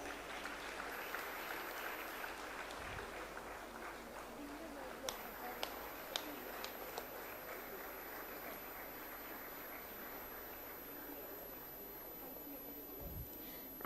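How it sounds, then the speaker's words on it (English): Summit audience applauding after a software launch, a faint, continuous wash of clapping in a large hall with a few sharper claps standing out. "Kindly give a big round of applause."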